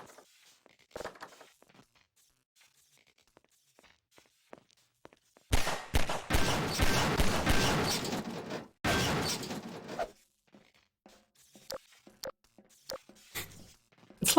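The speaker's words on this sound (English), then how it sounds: "we just happen to be able to pick up some turrets that shoot them instead of us" Game turrets open fire on vampire rats in Vault 110, a dense burst of loud mechanical shooting for several seconds between quieter footsteps and scattered clicks.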